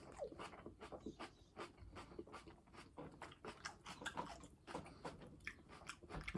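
Crunchy lettuce leaves being bitten and chewed close up, a steady run of crisp, wet crunches in uneven rhythm, quiet and alone without speech.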